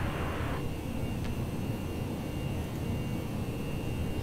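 Airbus A319 jet engines in a flight simulator run at climb thrust, a steady broadband roar with a faint high whine, constant and unbroken throughout.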